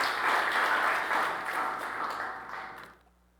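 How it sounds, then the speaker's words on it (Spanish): A church congregation applauds loudly right after a sermon, the clapping swelling early and then tapering off before dying out into near silence. "Démosle un aplauso bien fuerte"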